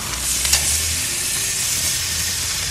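A flipped steak sizzles steadily on a hot grill, a loud, close, continuous frying hiss with no talking.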